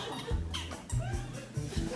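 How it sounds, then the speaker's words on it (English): A chair on a talk show sofa set gives short squeaks and creaks in uneven bursts at close range, with faint low thumps as someone shifts in the seat. "got a bit of a squeaky chair."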